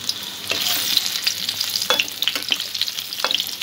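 Boiled potato frying in mustard oil in a pan gives a bright, close sizzle, broken by scraping stirs of a spatula and a few sharp crackles.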